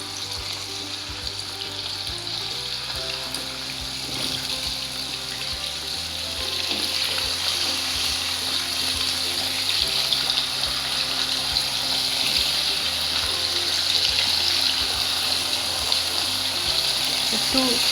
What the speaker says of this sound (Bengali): এবারে আগে থেকে শুধু হলুদ মাখিয়ে রাখা চিকেনগুলো আমি এখন ভাজবো।